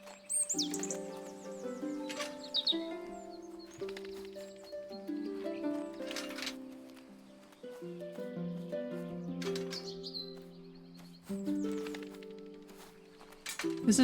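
Bird chirps in the video game Duck Detective: short high tweets pop up now and then over a soft tonal musical backing.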